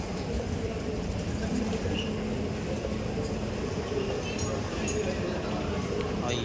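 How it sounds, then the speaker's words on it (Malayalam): A Dubai Metro train rumbles steadily into a station, a continuous low roar with faint metallic clinks and voices murmuring in the background. "ഇതാ മെട്രോ വന്ന്"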